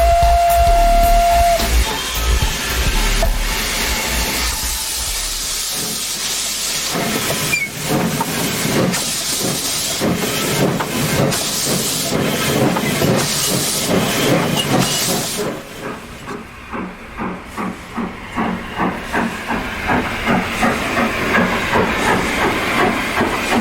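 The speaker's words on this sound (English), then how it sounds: "Plenty of water, plenty of steam, ready for the climb out of Keighley." A steam locomotive, No 957 "Ironclad", hisses loudly at first, then settles into rhythmic chuffing exhaust beats as it gets under way leaving Keighley for an uphill climb, close and prominent.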